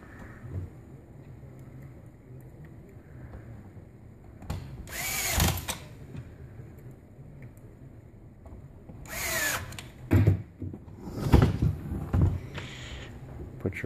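A power drill drives screws into the faceplate of a Ricoh MPC color copier, giving several short whirring bursts between quiet pauses, close and fairly loud.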